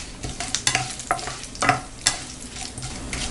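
Mustard seeds and chana dal with curry leaves and dried red chilies sizzle in hot oil with crackling pops and irregular spatters, while a utensil scrapes and stirs the pan close by.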